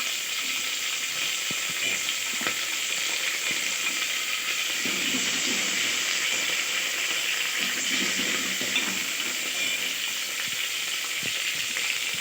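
Curry leaves and chopped onion sizzle in hot oil in a pan for ladyfinger dal, a steady close broadband frying hiss with soft crackles and brief stirring clatters throughout.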